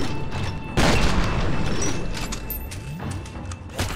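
Grenade explosion in F.E.A.R. during the Extraction Point combat, a sudden loud boom that bursts in close and decays over a couple of seconds, with scattered gunfire and clatter after it.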